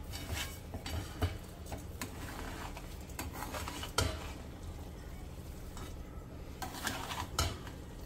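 Puran filling for puran poli is stirred and sautéed in a pan, with spoon scrapes and clinks of metal on the pan over a low steady sizzle, and a few sharper knocks scattered through.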